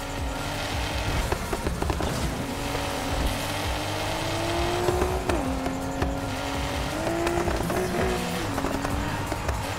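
In the racing game Need for Speed Heat, a car engine revs and shifts through gears with repeated sharp popping backfires, loud and close, crackling over the continuous engine drone.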